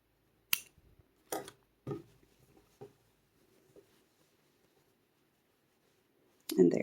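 Scissors snipping crochet yarn while finishing a crocheted teddy bear lovey blanket: four or five short, crisp snips spaced about half a second apart, close and fairly quiet, followed by a brief louder rustle at the end.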